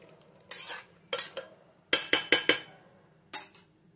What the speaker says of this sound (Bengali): এবার এটাকে একটু নাড়িয়ে